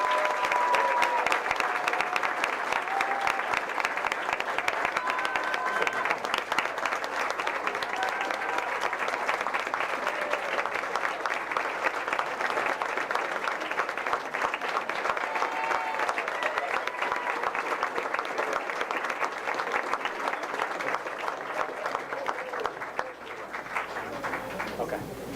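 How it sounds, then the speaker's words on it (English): Sustained applause from a crowd at a school board of education meeting, steady and enthusiastic for about twenty-five seconds, with faint voices mixed in before it tapers slightly at the end. "one awesome more round of applause"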